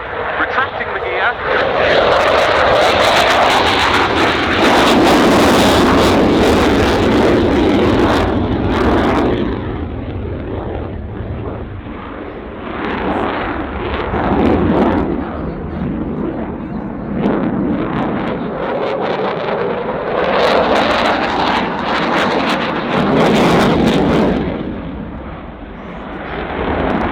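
A Dassault Rafale M, the single-seat navalised carrier version, flies an airshow display at Cosford, its jet roar loud and sweeping as it passes, swelling and fading in long surges over a crowd and a commentator.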